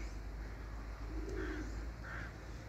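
Pigeons perched high on a rooftop give a few soft, distant coos over a steady low outdoor rumble.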